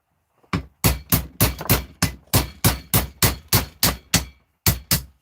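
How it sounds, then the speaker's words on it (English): Hammer striking a chisel against a part clamped in a vise to break out copper, about a dozen sharp metallic blows in a steady rhythm, close and loud, with a brief pause before the last two. "get your chisel and your hammer, and hit it a slap on the outside."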